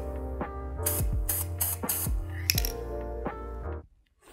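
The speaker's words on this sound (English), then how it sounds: "I'm gonna use this gray color spray." Gray spray paint hisses from an aerosol can onto a prop gun in several short bursts, each lasting a fraction of a second, close and clear over a steady tonal background.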